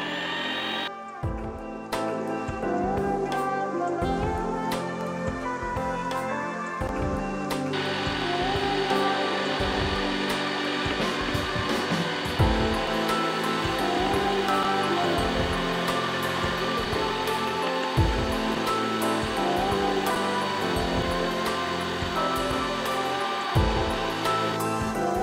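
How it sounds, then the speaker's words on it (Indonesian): Electric hand mixer running at top speed, beating steamed sponge cake batter until thick and pale, giving a continuous loud whirring drone with occasional knocks of the beaters against the bowl throughout. "Kemudian mixer dengan kecepatan paling tinggi sampai putih, kental, dan berjejak sekitar 7-10 menit."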